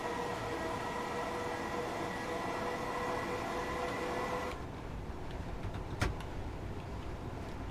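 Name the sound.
Class 421 electric train in Train Simulator video game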